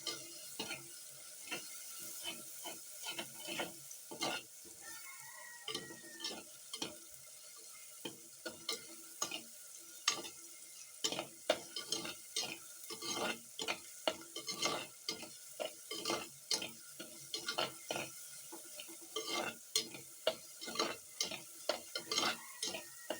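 Ingredients for a homestyle fish curry sauté in a pan while a spoon stirs them, giving a steady soft sizzle broken by frequent scraping taps of the utensil against the pan, close and continuous.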